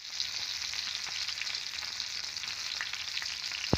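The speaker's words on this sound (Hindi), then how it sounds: "तो फिर टमाटर डाल दो तेल में, मतलब अच्छे से पका लो।" Tomatoes frying in hot oil, a steady close hiss and crackle with scattered pops, ending in a sharp clatter just before it cuts off.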